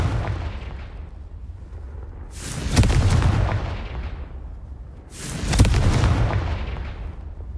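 Explosive Confringo spell blasts in the Hogwarts Legacy video game, two booming bursts a couple of seconds apart, each with a sharp onset and a long rumbling decay over a steady low background.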